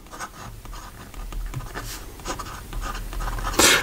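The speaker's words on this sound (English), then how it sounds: "Here we go with the writing sample for the Visconti." A Visconti Watermark Rainbow fountain pen with a fine 18 karat gold nib, inked with Visconti Turquoise, scratches steadily across paper in close, soft strokes, with a sharper scrape near the end.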